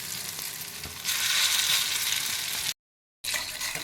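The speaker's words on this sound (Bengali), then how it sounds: "এবার আমি বাকিগুলো এভাবে ভেজে নিচ্ছি" Gandal (gandhal) leaf fritters frying in hot oil, a steady close broadband sizzle that swells louder partway through, breaks off for a moment of silence, then resumes; no talking.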